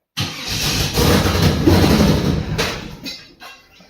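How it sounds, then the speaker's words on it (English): A Camaro engine with a hot-wired starter cranks and catches in a sudden loud burst, runs roughly for a couple of seconds, then fades and stumbles out. "Dad has hot wired the starter, and we can actually get it to run for a second"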